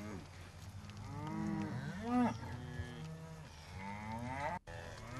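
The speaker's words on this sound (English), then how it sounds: "Once the cattle are out in the open, the dogs really come into their own in driving them up into the hills." Cattle driven by working dogs into hills in the Rocky Mountains, several drawn-out moos overlapping at moderate distance, one louder call near the middle, over a steady outdoor background with no talk.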